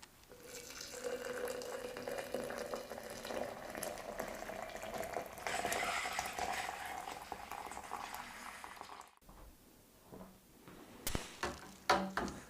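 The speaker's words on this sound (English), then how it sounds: "what I'm going to do now is add some boiling water to this tin and dissolve what's left in there" Boiling water pours and bubbles steadily into a beer kit tin for several seconds, then stops, followed by a few clinks and scrapes of stirring.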